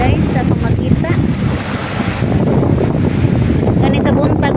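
Sea waves at high tide on a windy shore, a steady loud roar of surf and wind buffeting the microphone, continuous and close throughout.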